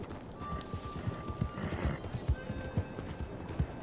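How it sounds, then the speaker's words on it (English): Horse hooves clip-clopping at a steady walking rhythm with a whinny in Red Dead Redemption 2, moderately close and clear, with faint game ambience underneath. "Oh my god, horse."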